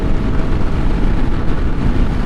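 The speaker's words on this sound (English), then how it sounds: "It's breezy, all right." Wind buffets the microphone while riding a Yamaha XT250 dual-sport motorcycle at about 45 to 55 mph, a loud continuous broadband rush and rumble with no break.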